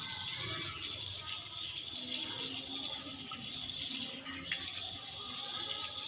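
Steady running water from a tap splashes continuously, as if hands are being rinsed beneath it, close and fairly loud with no talking.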